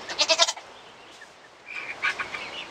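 Goats bleating inside a goat shed, a short quavering call followed after a pause by another fainter, rougher bleat, fairly quiet and with no one talking.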